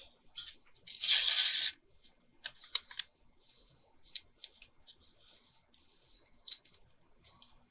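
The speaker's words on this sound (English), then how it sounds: "Let's tear that off. And then tear" Brown packing paper torn by hand: one loud, drawn-out rip near the start, then scattered soft crinkles and small tears, close up with no talking.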